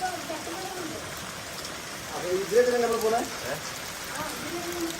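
Heavy monsoon rain falling in Periya village during flooding, a steady dense hiss throughout, with a voice speaking intermittently over it.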